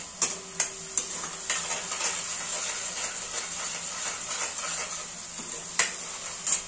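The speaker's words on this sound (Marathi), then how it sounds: "याचा कच्चापणा जाईपर्यंत फ्राय करून घेऊया।" Eggplant bhaji for a spicy gravy fries in a pan with a soft, continuous sizzle and hiss, punctuated by several sharp spatula taps and clinks against the pan.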